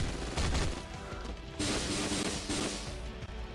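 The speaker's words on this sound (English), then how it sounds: "And walking away from the explosion." Explosion in the mobile game Marvel Future Fight: loud, dense blasts and crashing bursts fill the whole stretch, swelling again midway, with game effects layered on top.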